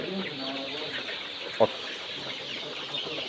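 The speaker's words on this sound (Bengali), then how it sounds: "এখানে দেখতে পাচ্ছেন কক মুরগি" Cock chickens on a poultry farm in a rural village, with faint clucks and murmurs under a steady background hum and one short, louder call in the middle, alongside a voice talking.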